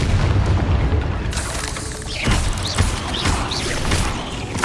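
A Bombarda spell explosion in the video game Hogwarts Legacy booms loudly across the whole clip, a dense, sustained blast with crashing debris and rumbling low end, and a few sharper bursts layered on top.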